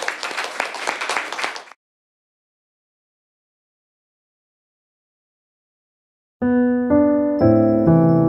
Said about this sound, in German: begrüßen wir das Podium bitte nochmal mit einem herzlichen Applaus